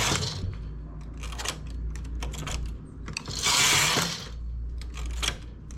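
A domestic knitting machine carriage runs across the needle bed, making rapid mechanical clicks and clacks with a louder rushing swish partway through, all close up.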